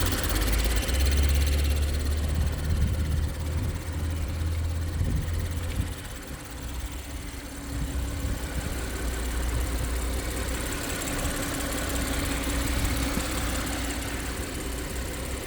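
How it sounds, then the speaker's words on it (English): A 2017 Audi Q7 engine idles with the hood open, a steady low rumble and even mechanical hum heard close up, with no talking. "Definitely a healthy running engine."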